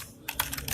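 A few quick keystrokes on a computer keyboard while typing C++ code, close and crisp, three or four taps in under a second.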